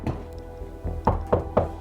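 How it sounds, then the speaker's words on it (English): Knocks in an attic during a paranormal investigation: a few dull, hollow thuds at uneven intervals, moderately close, with a faint steady hum beneath and no talking. "Dan, knock where you are."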